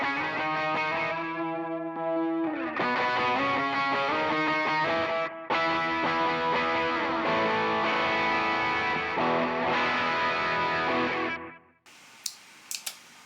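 A distorted electric guitar plays sustained chords and notes through an HX Stomp delay effect repeating them, the tone thick and continuous before cutting off into faint clicks.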